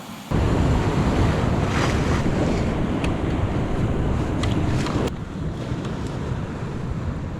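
Heavy surf pounding a rocky seaside shore on Sado Island, a loud, continuous wash of breaking waves mixed with strong wind noise on the microphone, with no voices.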